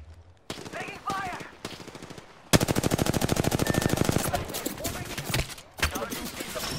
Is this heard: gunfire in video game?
yes